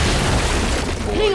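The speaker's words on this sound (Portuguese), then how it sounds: "Lançando granada de fragmentação!" A frag grenade blast in the Gears 5 video game, a dense low boom filling the whole moment amid battle noise, with voices talking over it.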